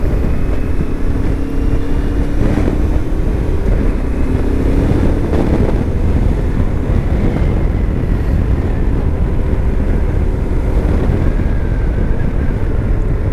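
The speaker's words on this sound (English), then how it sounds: "Very windy." Strong, steady wind on a road in Perthshire, Scotland roars across the microphone, a dense continuous rush with low buffeting that never lets up.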